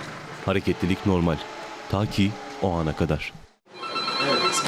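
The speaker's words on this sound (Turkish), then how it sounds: "işte bu alarm zilleri bir operasyon olduğuna işaret ediyor" Someone speaks, then after a short pause a loud, continuous alarm bell starts ringing at Incirlik air base.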